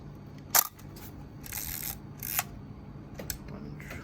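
A Zenit ET Russian film camera with a Helios 44M-4 58mm lens trips its shutter at 1/250, giving a few sharp mechanical clicks and brief winding rasps, close and quiet in a still room.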